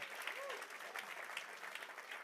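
A church congregation claps steadily, the applause dense and continuous but faint and distant, with a few voices faintly mixed in.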